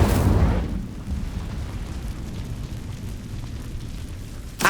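An Incendio fire spell cast in Hogwarts Legacy, a loud whooshing burst at the start that settles into a steady roaring, crackling rush of flame and ends with a brief fresh burst.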